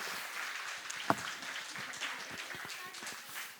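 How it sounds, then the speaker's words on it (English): A crowd applauds after a performance of Assamese dances, a fairly faint wash of clapping under a speaking voice, with one sharper clap standing out early. "Ladies and gentlemen, one more massive round of applause, please."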